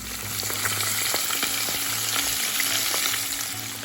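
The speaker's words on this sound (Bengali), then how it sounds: "ফোড়নে দিয়েছি কালো জিরে আর হচ্ছে একটু রাঁধুনি দিয়েছি আর পেঁয়াজ আর তেজপাতা আদা রসুন দিয়ে দিয়েছি এর মধ্যে" Black cumin, radhuni, onion and bay leaf tempering in hot oil, with a loud, steady close sizzle and occasional light stirring clicks.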